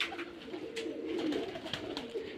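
Giribaz pigeons coo softly and repeatedly, several low warbling calls overlapping in a steady murmur, with faint background noise.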